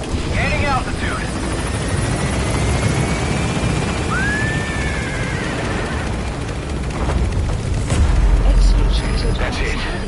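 A military transport helicopter lifts off and climbs in the video game Metal Gear Solid V: The Phantom Pain, its steady rotor drone filling the scene under radio-style voice chatter and faint game effects.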